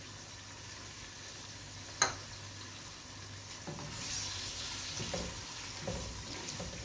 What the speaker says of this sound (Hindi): माशाल्लाह प्याज हमारा बहुत अच्छा तैयार हो रहा है। अभी अब इसमें ज़ीरा और सब्ज़ इलायची ऐड कर लेते हैं।